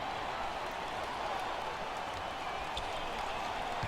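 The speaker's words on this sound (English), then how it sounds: "You hear the Arctics fans cheering now" Basketball arena crowd of home fans cheering after a dunk, a steady broad roar of voices and noise filling the whole moment with no break, fairly distant and diffuse.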